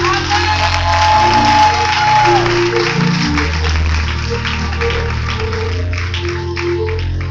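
A church congregation applauds in sustained, even clapping throughout, with crowd noise and a voice underneath.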